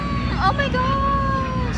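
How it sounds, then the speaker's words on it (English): An airplane flies over an airshow crowd, its steady droning engine tone sliding slightly in pitch as it passes, loud beneath an excited close voice and general crowd chatter. "It's that freaking airplane."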